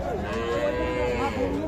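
A small calf at a village cattle market gives one long, drawn-out moo, close and clear, with faint background market noise.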